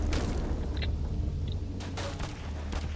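Bursts of video game gunfire over a steady low rumble, with sharp repeated shots crackling through a dense, loud mix of game sound.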